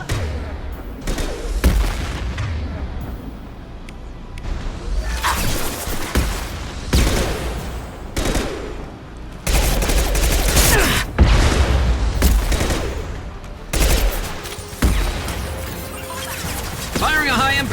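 High-impact gunshots ring out in the sci-fi shooter Mass Effect 2, a string of sharp, heavy blasts and crashes spread irregularly across the stretch, loud and close, mixed with voices and game sounds.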